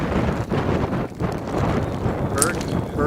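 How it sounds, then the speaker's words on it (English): Gusting hurricane wind from Hurricane Milton roars steadily across the microphone on the Florida coast, with a brief high chirp near the end. "You can hear the wind."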